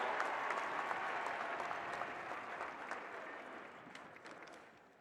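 A large stadium crowd at a football championship celebration in Sanford Stadium applauds the UGA president, a broad, distant wash of clapping that holds steady and then gradually fades.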